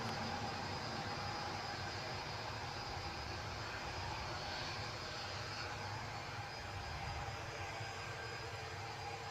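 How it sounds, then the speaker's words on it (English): Airliner engine spooling up for an Antalya departure at Newcastle airport, a steady broadband roar with a faint whine, continuous and fairly distant with no talk. "you will hear the pickup of the engine noise as our Antalya departure shapes to move"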